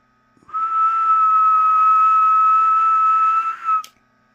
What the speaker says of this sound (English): So you just kind of whistle into it.